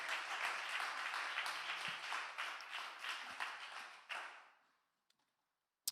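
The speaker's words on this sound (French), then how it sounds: "J'aimerais entendre un grand applaudissement à ceux qui croient que c'est possible" Congregation applauding at a church celebration service, a dense wash of clapping for about four seconds that thins out and fades to near silence, with a couple of stray claps at the end.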